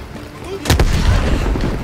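Grenade blast in the Call of Duty Black Ops Cold War campaign: one loud deep boom with a sharp crack, rolling into a rumbling tail over steady game ambience.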